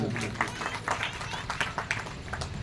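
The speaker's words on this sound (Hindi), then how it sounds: "ताली बजा दो झलोन समाज के लिए" An audience at a Jain religious gathering and sermon claps together, a moderate patter of many hands spread through the moment, with voices speaking over it.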